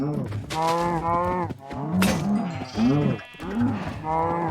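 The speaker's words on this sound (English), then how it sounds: "And now I guess it's time to murder some cows" Cows in the Minecraft video game moo repeatedly, several drawn-out lowing calls overlapping one another, fairly loud and close with no talk.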